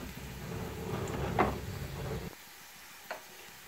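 Ground cumin, coriander and turmeric sizzling in hot oil in a pan for drumstick dal, a soft steady frying hiss with a couple of light scraping stirs, then quieting near the end.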